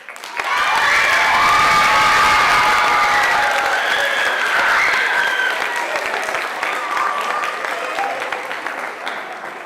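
A crowd at a high school band's spring concert bursts into loud applause with cheers and children's shouts for a student award winner, swelling quickly then slowly easing off.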